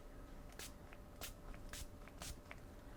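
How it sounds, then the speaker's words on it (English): Several short, quiet spritzes from a perfume spray bottle onto a wrist, spaced apart over a faint background hiss, close by. "I will spray the perfume on your wrist like this"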